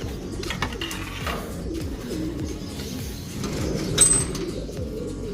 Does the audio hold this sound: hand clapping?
no